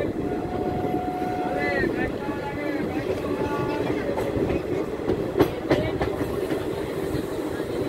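The Kanchanjunga Express slowing to a halt at Kishanganj station, with a steady rumble and wheel squeal from the rails, sharp clanks, and a dense background of station noise and voices.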